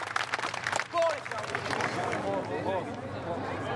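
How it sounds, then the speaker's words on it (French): Polite, measured applause from the French team at the Euroskills finals: moderate crowd clapping mixed with murmuring and babble. A voice speaks over it throughout. "Applaudissements courtois et mesurés des Français."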